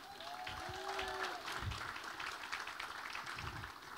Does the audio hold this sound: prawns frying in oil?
no